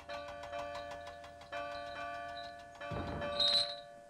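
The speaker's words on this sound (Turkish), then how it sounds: "Çan Duncan'ın platform vagonuna yüklenirken neşeyle çınladı." A large bell rings out joyfully as it is loaded onto a flatbed wagon in a Thomas & Friends cartoon, with sustained metallic tones, a fresh strike midway, then a rushing clatter and a bright chime near the end.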